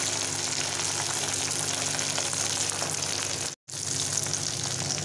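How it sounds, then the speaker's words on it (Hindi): Taro root (arbi) frying in hot oil in a kadhai over a medium-to-high flame, a loud, steady broadband sizzle that runs unbroken apart from one brief dropout near the end. "अब इसको हम कढ़ाई में तल लेते हैं।"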